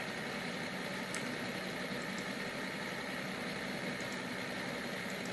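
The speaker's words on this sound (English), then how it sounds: "You can hear the engine revved in the background" Vehicle engine idling and revving inside the EmergeNYC emergency-services video game, a faint, steady low rumble with a constant mechanical drone and no clear rise in pitch, heard alone without talking.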